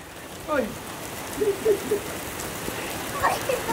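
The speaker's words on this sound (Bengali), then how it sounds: "জোরে বৃষ্টি পড়ছে রে।" Steady rain hisses throughout, a dense wash of falling water, with brief voices and faint calls rising over it now and then.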